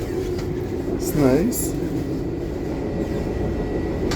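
Steady rumble and rattle inside a moving Via Rail train carriage between Halifax and Montréal, with a person speaking briefly over the continuous noise.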